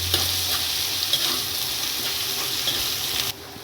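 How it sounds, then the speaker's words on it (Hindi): Garlic ginger paste sizzling with onions in a frying pan for a bhindi aloo dish, a steady loud crackle with a brief stirring scrape, no talk. "1 चम्मच लहसुन अदरक का पेस्ट डाल रही हूँ, इसको भी इसके साथ में फ्राई करेंगे।"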